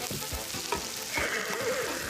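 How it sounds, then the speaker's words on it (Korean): Slices of pork belly sizzle on a hot grill plate in a Korean barbecue restaurant, giving a close, steady crackle with popping spits throughout and no talking. "불판 위에서 지글지글 익어가는 고기"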